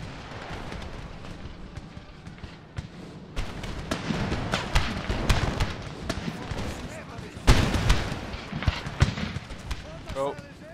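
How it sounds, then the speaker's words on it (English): Musket volleys and artillery fire crackle and thump across a Napoleon: Total War battlefield, scattered sharp reports building in density with heavier booms in the middle, over a continuous battle din. "Oh, the firing started over here."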